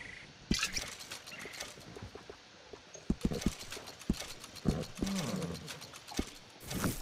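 A horse's hooves clip-clop at a walk in Red Dead Redemption 2, an uneven series of close, crisp knocks with faint tack rattles and a brief snort, and no talking over it.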